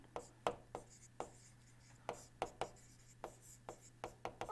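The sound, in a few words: lecturer writing out a steam cycle process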